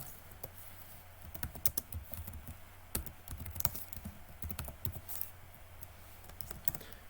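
Typing code on a computer keyboard, with quiet, irregular clusters of close key clicks and occasional louder taps, no voices.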